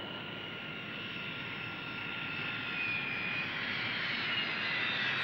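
Jet aircraft engine roar fills the scene at an airport, a steady whining rumble that swells slightly louder toward the end with no speech over it.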